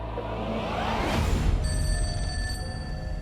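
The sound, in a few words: telephone ringing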